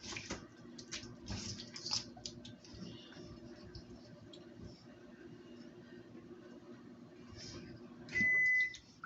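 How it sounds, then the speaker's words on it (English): A microwave oven hums steadily in a home kitchen during chicken feet cooking, with faint clicks and rattles, then a loud sustained beep near the end. "Put something in the microwave."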